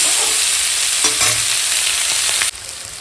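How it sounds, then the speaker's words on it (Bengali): Spring onion, carrot and cauliflower fry together in hot oil with a loud, close, hissing sizzle and a few stirring knocks, which drops to a quieter crackle in the last half second. "তাহলে এখানে দিলাম পেঁয়াজ কলি গাজর আর ফুলকপি একসঙ্গে ব্যাস মেরে ভাজবো"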